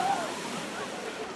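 Sea waves wash steadily at a crowded summer beach on the Gangwon coast during a holiday weekend, a continuous broadband surf rush with no distinct breaks and faint crowd sound mixed in.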